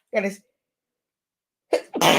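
A single short sneeze bursts out near the end, preceded by a brief voiced sound and a pause of silence.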